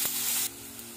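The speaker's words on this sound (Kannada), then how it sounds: "ಇದನ್ನೀಗ ಬ್ರೌನ್ ಆಗೋ ತನಕ ನಾವು ಗೋಲ್ಡನ್ ಬ್ರೌನ್ ಫ್ರೈ ಮಾಡ್ಕೊಳ್ಳುವ ಮೀಡಿಯಂ" Onion and curry leaves frying in oil on a medium flame, a loud bright sizzle for the first half that drops abruptly to a softer, steadier crackle, with no talk.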